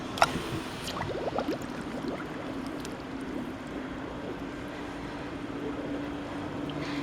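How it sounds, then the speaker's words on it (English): A sump pump powered by a homemade solar generator runs with a steady low hum and watery rush beside a pool, carrying on evenly throughout with a few faint knocks early on. "And as you can hear, the pump is on."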